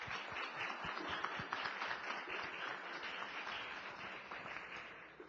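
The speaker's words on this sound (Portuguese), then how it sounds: "Uma salva de palmas, por favor." An audience at a Brazilian physics tournament applauds in a sustained, even round of clapping, heard from a distance and fading slightly toward the end.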